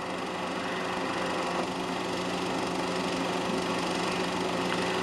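Production sports-racing cars, Corvettes, Porsche Carreras and Daimlers in B and C production classes, roar past in a steady, dense engine drone that stays loud and continuous with no one talking.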